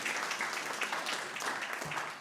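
Audience applause at an event on challenging anti-Asian and antisemitic hate, a steady dense burst of clapping from the crowd lasting a couple of seconds.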